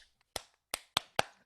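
A single person clapping hands alone: five sharp, close claps in an uneven rhythm at a modest level, with silence in between and no talk.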